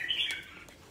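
Young chicks give a quick run of high, thin peeping chirps, up close and fairly faint, fading out within a second with no talking.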